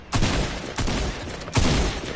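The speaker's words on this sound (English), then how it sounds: "Oh, I'm getting shot at!" Three heavy bursts of gunfire from a video game shooter ring out in quick succession, each loud and close with a short decaying tail.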